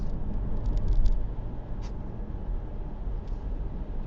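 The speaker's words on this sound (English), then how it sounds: "You do hear the exhaust." A low, steady rumble from an Audi S5 Sportback fitted with an exhaust resonator, heard from inside the car while driving, with a few faint light ticks over it.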